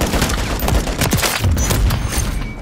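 Dense, continuous burst of gunfire in a first-person shooter game, a rapid fusillade with sharp booms throughout and no clear gaps.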